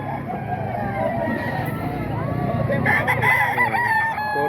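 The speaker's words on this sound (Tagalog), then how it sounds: "dalawang manok" An SBR bloodline rooster crows repeatedly near two chickens, the calls rising and falling over several seconds, with low background voices and babble underneath.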